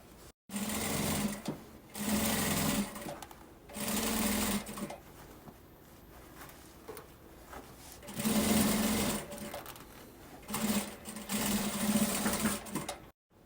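A sewing machine stitches the lining of a children's backpack in several close, steady bursts separated by brief pauses, its whirring motor the only clear sound.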